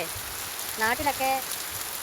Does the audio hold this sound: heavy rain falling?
yes